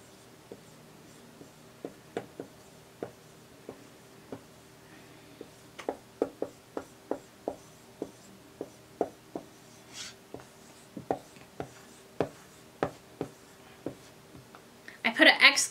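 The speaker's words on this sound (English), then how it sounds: "See if you can guess what Mrs. Skinner is going to write" A marker or pencil writes a kindergarten sentence by hand on a board or paper, giving a string of short, distinct strokes and taps in an irregular rhythm, fairly faint and close, with no talking.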